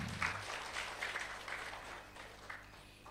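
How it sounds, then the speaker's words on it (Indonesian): An audience at a religious gathering claps, producing a soft, fairly distant patter of applause with a steady low hum underneath, gradually thinning over a few seconds. "Tepuk tangan dulu dong."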